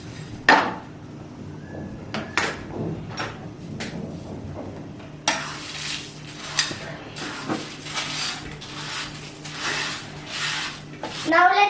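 Whole spices (fennel seeds, coriander seeds, dry red chilies and a pinch of fenugreek) dry roasted in a pan for a masala powder, with repeated clinks and scrapes of a utensil against the pan and a faint background hum.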